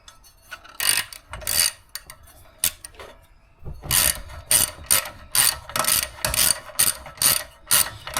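Close, crisp ratchet clicks come in short bursts as bolts are snugged down in a crisscross pattern on the cover of a Coleman B200 engine, sparse at first and then more regular and rhythmic, with no talking.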